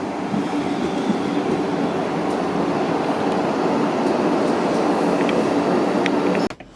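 A South Western Railway Class 458 electric multiple unit running between Staines and Clapham Junction gives a constant rumbling hum with faint rail clicks, heard steadily from inside before a sudden thump near the end.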